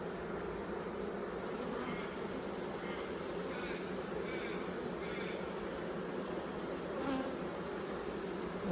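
A dense, continuous buzz of honey bees inside an open hive, close and steady throughout with no talk over it.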